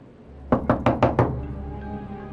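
A hand knocks on a wooden house door five times in a quick, even series, loud and close, followed by a quiet room tone.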